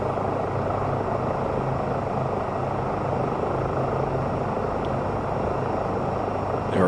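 Rotor of an EC-135 helicopter in Microsoft Flight Simulator 2024 spooling up, a steady loud whine and thrum of turbine and blades running continuously throughout without pause.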